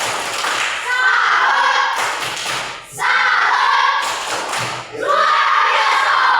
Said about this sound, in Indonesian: Sebelum kembali kita beri aplaus dengan tepuk salut.